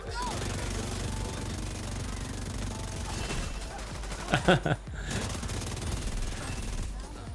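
Rapid burst of gunfire from the St. Elmo's exotic rifle in The Division 2, a short clattering volley in the middle of steady game ambience and music.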